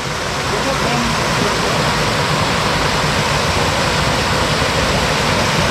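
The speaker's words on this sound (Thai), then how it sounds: "น้ำกำลังไหลลงมาครับ" Water gushing down from a weir into a flooded rice paddy field, a loud, steady broadband rush that stays constant and close throughout.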